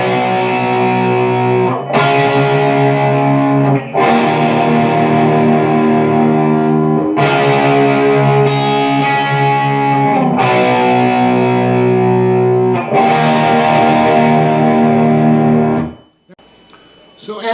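Heavily distorted electric guitar plays a post-solo passage, a repeated lick followed by sustained chords in steady phrases, loud and close, ending with a brief pause.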